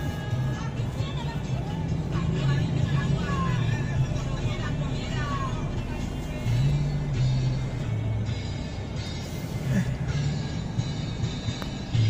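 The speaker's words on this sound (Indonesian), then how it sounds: "Ini lagi macet ya," Jammed traffic on a Jakarta street heard from inside a vehicle: low steady engine rumble, idling cars and distant street hubbub, with people talking over it.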